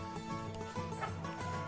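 Rescue hens in a farmyard with indoor and outdoor space cluck steadily and close by, a dense overlapping chorus of short calls filling the brief moment without any talk.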